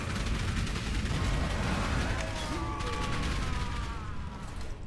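Earthshatter spikes detonating on a tanky boss in Path of Exile, a dense rapid crackle of bursts and impacts rolling on continuously at high level, with faint tonal whooshes through the barrage.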